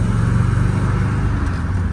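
A 1967 Pontiac GTO with 24,000 miles pulls away under steady acceleration, its deep engine rumble loud and close from inside the car, with no clear break for a gear change.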